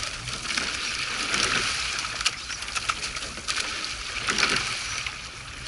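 A rowing crew paddles a boat on open water with steady, moderate pressure during a memorial row; oar strokes and water wash sound as a continuous broad rush with occasional soft splashes, fairly close.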